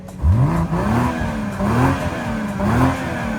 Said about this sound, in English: Show everyone the Valvetronic exhaust.